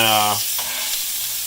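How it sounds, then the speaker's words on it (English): Jalapeno peppers fry in a pan with a loud, steady sizzle and crackle. A short voice-like tone sounds at the very start, then the frying continues alone and close by. "They're just going to fry up a little bit."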